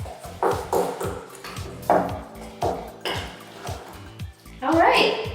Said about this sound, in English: So let's dump our sugar in there, and we're gonna just mix this thing around